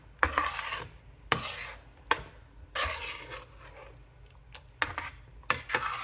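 Rinsed, drained black beans tipped into a pot of vegetarian chili and stirred, giving soft wet scraping and shuffling strokes with several sharp spoon knocks against the pot, quiet and close.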